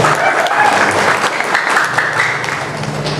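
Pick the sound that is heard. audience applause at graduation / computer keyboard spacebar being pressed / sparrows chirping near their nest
audience applause at graduation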